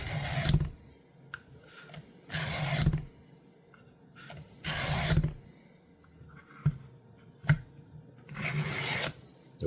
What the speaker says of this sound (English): I'm starting with coarse, couple of sweeps just to get the angle and clean up the blade